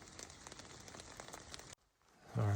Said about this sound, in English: it's going to be a cozy night listening to rain